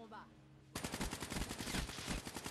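A turret in the video game Black Ops 3 opens fire without warning, a loud, rapid stream of machine-gun shots in a steady rhythm that continues to the end after a short quiet, voiced moment.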